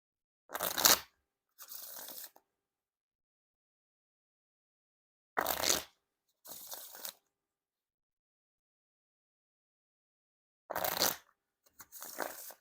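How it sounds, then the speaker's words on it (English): Brown Bicycle Rider Back Archive Series playing cards get riffle shuffled three times, each a short crisp burst of fluttering cards followed by a softer bridge rustle, close up and separated by silence. "Now time for the Riffle Shuffle or Bridge Shuffle."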